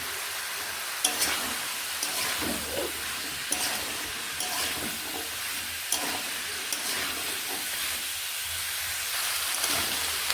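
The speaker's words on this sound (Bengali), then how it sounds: "সব সবজিগুলোকে একসঙ্গে এইভাবে নেড়ে নিচ্ছি" Mixed cut vegetables frying in a pan are turned with a spatula, a dense hissing sizzle with occasional soft scrapes and knocks, steady and near, with no one talking.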